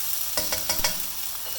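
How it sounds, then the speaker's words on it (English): Meat frying in a pan, a steady sizzle with several sharp scraping clicks of stirring near the start, close by. "So we'll just put in the meat portion first, and then we'll give this a fry"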